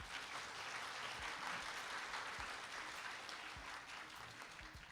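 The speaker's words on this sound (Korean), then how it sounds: "한 분 한 분 소개해드릴 때마다 큰 박수로 환영해주시기 바랍니다" Audience applause welcoming a dignitary being introduced at a supporters' launch ceremony in Gangwon, a steady wash of clapping from a crowd that holds at a fairly even level throughout.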